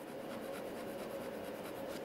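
A vintage fountain pen with a wet nib scratching across paper, a soft continuous rubbing of writing, close and quiet, with no voices.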